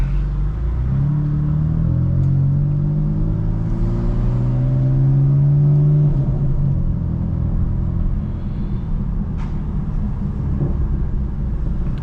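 A BMW M4 engine drones low and steady from inside the cabin as it accelerates, its pitch climbing then settling, with occasional faint exhaust burbles and pops.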